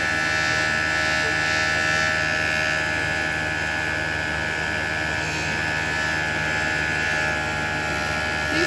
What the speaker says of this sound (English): Hold on, let me turn the vacuum on.